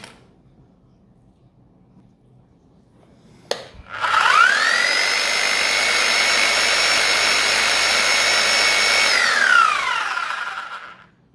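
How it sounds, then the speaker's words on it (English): After a click, a Bosch GSH 5 E electric demolition hammer motor roars to life after brush replacement, runs loudly and steadily for about six seconds, then winds down to silence. "I plug it in and see if it works."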